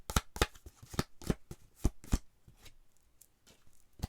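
Small tarot cards shuffled by hand, giving a rapid series of crisp riffling slaps up close, then a softer, sparser patter trailing off.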